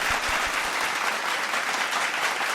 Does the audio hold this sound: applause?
yes